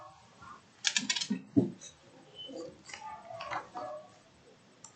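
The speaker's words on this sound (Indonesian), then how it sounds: "Oke, kita ketik scriptnya." Keystrokes on a computer keyboard while typing a JavaScript script, coming in uneven bursts of close, crisp clicks with short pauses between them.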